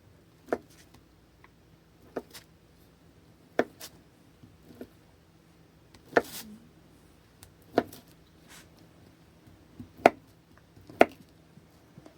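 A knife chops a tamale on a cutting board, about nine separate sharp knocks at irregular intervals of a second or two, close and clear in a quiet room with no talk.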